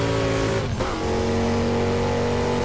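A car engine hums steadily with a tonal drone in Burnout Paradise Remastered, a brief dip and whoosh midway, then settling back into a constant driving drone.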